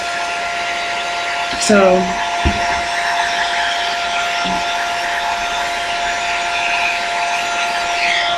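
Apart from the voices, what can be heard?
hair dryer blowing on low heat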